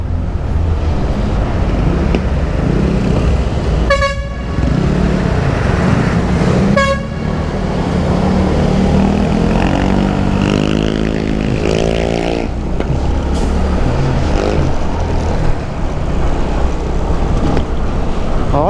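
Congested road traffic in Las Piñas: a constant loud engine rumble close by, broken by two sharp horn toots early on and a longer rising horn or engine note midway, with no voices.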